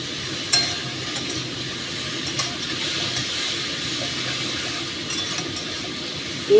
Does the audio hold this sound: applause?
no